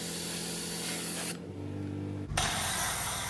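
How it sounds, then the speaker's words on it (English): Tar remover sprayed onto the muffler of a lifted Ford F250 truck during mobile detailing: a steady close aerosol hiss, a brief pause, then a louder burst of spray. "I'm using a tar remover on the muffler"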